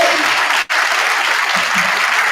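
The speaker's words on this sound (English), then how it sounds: "I'll give her another hand." Audience applause for a speaker at a National Pan-Hellenic Council scholarship program, loud, dense and continuous clapping close by throughout, with a brief dip in the middle.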